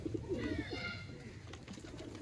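Lakha breed pigeons from a breeder's loft coo close by, a couple of clear rolling calls early on over a murmur of other birds, with faint chirps toward the end.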